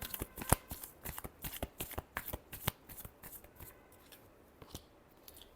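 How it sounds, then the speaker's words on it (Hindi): A tarot deck is shuffled in a rapid series of crisp card riffles and flicks, close and fairly quiet, with no voices. "last shuffle"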